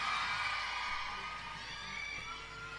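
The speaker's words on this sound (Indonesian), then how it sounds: "Tepuk tangan untuk kalian semua." A concert crowd at a pop band's show cheers and claps, a broad roar of voices and hands that holds steady and slowly fades a little, with some sustained tonal ringing underneath.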